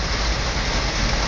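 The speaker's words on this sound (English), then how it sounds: "Yes, ladies and gentlemen, that is real live rain." Steady real rain pours down outdoors while a locksmith works in it on a 1998 Honda Accord, a loud, even broadband hiss of drops with no talking.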